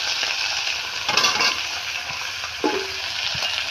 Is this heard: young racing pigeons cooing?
no